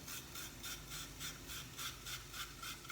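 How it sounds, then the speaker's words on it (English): Ginger grated on a hand grater, a quiet rhythmic rasping of short strokes repeating about three times a second, close and alone. "get my grater and grate my ginger in there."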